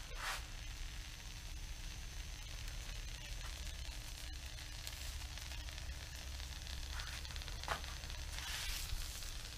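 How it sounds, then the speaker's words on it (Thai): Washed, sliced mulberry leaves dry-roasting in a hot pan, a soft continuous sizzling hiss with a few brief rustling stirs, no talking. "เราก็เอา ใบหม่อนที่เราล้างซอยไว้เรียบร้อยเนี่ยมาคั่วนะครับ"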